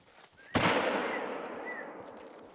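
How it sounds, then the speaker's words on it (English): A single loud gunshot in the hunting video game theHunter: Call of the Wild, set in the Sundarpatan reserve, cracks sharply and rolls into a long fading echo, with faint bird calls around it. "Was that a gunshot?"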